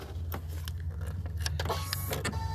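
An embroidery machine stitches a spoon and fork design in rapid repeated needle strikes over a low motor hum, close and fairly quiet, with no voices.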